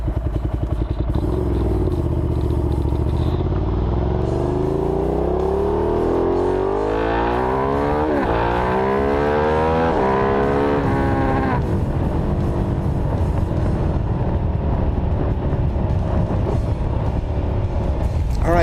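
Ducati Diavel motorcycle ridden hard with the camera mounted on the bike, engine loud and close throughout, rising and falling through rapid revs and gear changes over steady wind rush.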